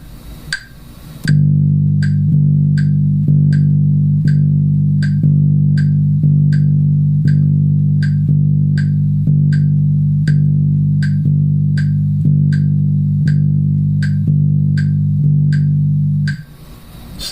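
A bass guitar plays sustained low notes against a steady metronome click, the notes changing in an even, slightly off-kilter triplet pulse, close and loud, with no talking.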